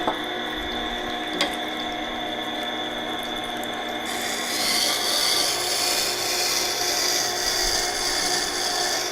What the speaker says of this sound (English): It takes a fair bit more time to get it polished on this wheel as opposed to just getting an edge on the CBN or wheels.